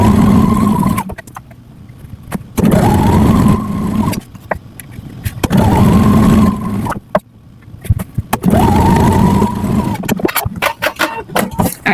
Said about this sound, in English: So let's get to sewing them.